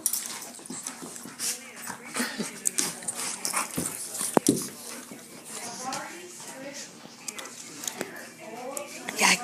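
Dogs play with a puppy, giving frequent short whimpers, yips and panting mixed with scuffling sounds. People talk and cheer over the play.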